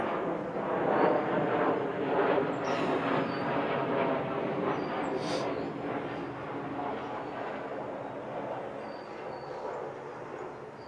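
A jet airplane flies overhead, heard from a home as a steady broad roar lasting the whole stretch and slowly fading toward the end, with no talking over it.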